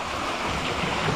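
A rural river stream flowing steadily, a dense, continuous rush of water close to the microphone with no voices.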